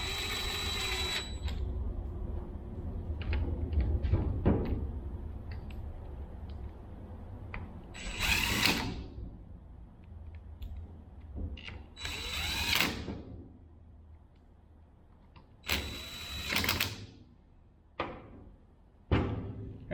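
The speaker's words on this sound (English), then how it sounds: "Put your 4 T30 bolts back in it." Four T30 bolts go back into the actuator of a TORQ locker on a SmartLok rear differential, with quiet ratcheting clicks and several short, sharp bursts of a driver spaced through the clip.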